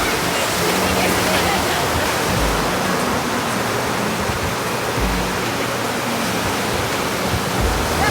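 Surf at Chirihama beach on the Noto coast in Ishikawa, a loud, close, continuous rush of sea waves washing over the shallows, with a faint low hum underneath and no clear talking.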